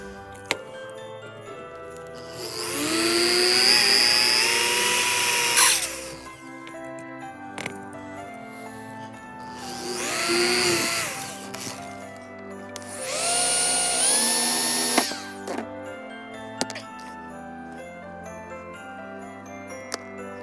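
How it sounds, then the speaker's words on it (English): A power drill bores apart a die-cast Hot Wheels 65 Merc toy car in three loud whining bursts of several seconds each, the pitch sagging under load, separated by quieter stretches with small clicks and taps. "Let's get to drilling."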